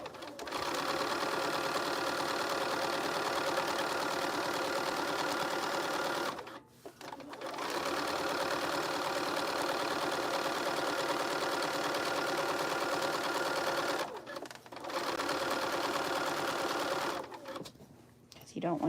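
A sewing machine runs close and steady while top stitching fabric, whirring in long continuous bursts that break off briefly twice and then stop near the end.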